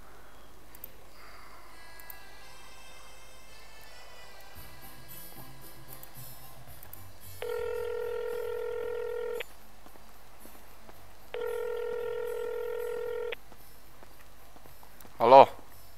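A phone is dialed to make a call, with two separate stretches of steady electronic tones under quiet talk, followed by a short louder burst near the end.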